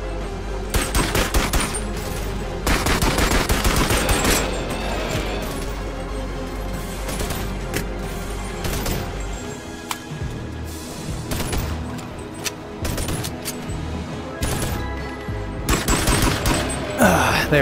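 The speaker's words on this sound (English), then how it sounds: "they have freaking machine guns" Machine guns firing in the VR shooter BONELAB, with dense rapid bursts and loud crashing volleys that come and go across the stretch, mixed with close impacts and a voice talking in places.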